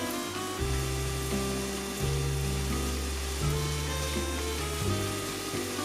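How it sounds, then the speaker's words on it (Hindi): Chicken tikka filling with lemon sautéing in a pan over a medium-high flame, a steady moderate sizzle running continuously under a low tonal hum, with no talking. "तकरीबन मैं 4 से 5 मिनट के लिए इसकी भुनाई कर लेती हूँ"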